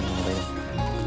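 A goat on a backyard goat farm gives one short, close, wavering bleat, with no talking.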